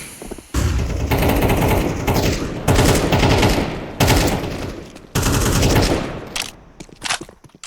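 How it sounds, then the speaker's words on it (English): Bursts of rifle and SMG gunfire in a Counter-Strike round on the Ancient map, loud sustained volleys in several separate bursts with short gaps between, no talk over them. "Jim Bob and Buns firing back"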